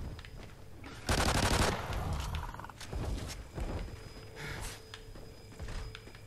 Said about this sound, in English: He's got a damn machine gun. A machine gun tail.